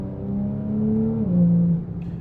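Porsche 911 Turbo S (992.1) accelerating and short shifting, a steady mid-pitched engine drone that rises and steps down between gears, heard from inside the car with no talk.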